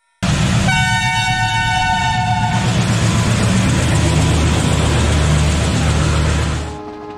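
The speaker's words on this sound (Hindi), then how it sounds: "ठीक साढ़े छह बजे यह ट्रेन अपनी एक सप्ताह की जर्नी के लिए प्रस्थान करती है" Palace on Wheels luxury train departs a station in Rajasthan, its horn sounding a couple of sustained tones before a loud continuous roar and rumble of the moving train fades out at the end.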